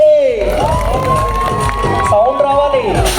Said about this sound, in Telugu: ఈ బ్యూటిఫుల్ కపుల్కి ఒక్కసారి అందరూ గట్టిగా క్లాప్స్ కొట్టండి